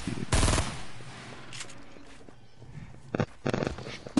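A loud burst of rapid automatic gunfire from a PS4 shooter game, followed by quieter footsteps and then several more sharp clustered volleys near the end, close and punchy.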